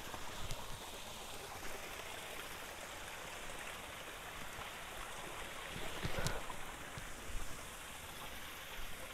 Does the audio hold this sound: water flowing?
yes